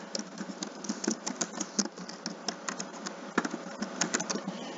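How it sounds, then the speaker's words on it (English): Rapid, uneven typing on a computer keyboard, with dense, close, light key clicks running steadily and no voices. "I'm going to type in"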